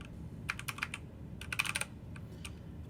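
Someone types a new password on a computer keyboard, a quiet run of crisp, irregular key clicks in two short bursts over a low background hum.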